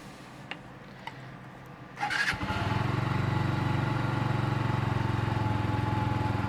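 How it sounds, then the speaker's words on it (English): A WK Legend 125cc fuel-injected Euro 4 cafe racer motorcycle clicks a few times, then starts and revs briefly before settling into a steady, close idle with an even single-cylinder thump. "So when you start it up, it will always do that little bit of a rev because it's fuel injection, and then it will calm down."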